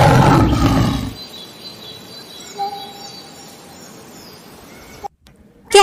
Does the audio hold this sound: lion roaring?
yes